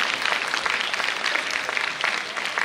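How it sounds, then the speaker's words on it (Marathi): An audience at a kirtan performance claps loudly for the tabla accompanist, a dense, continuous burst of applause that holds at even strength. "एकदा जोरदार टाळ्या वाजवा त्यांच्यासाठी"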